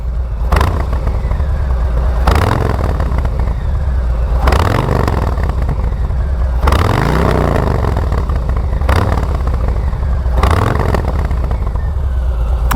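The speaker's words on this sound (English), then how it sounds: "I'll give a bit of a rev for you" A 2021 Harley-Davidson Street Bob fitted with S&S Grand National slip-on exhausts revs repeatedly, about six deep throttle blips rising and falling over a steady close idle rumble.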